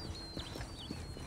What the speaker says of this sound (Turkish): aşağıda yemin ediyorum at var